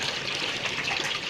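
Water pours steadily into a pot during rose water making, a continuous splashing gush that is close and fairly loud, with no voices.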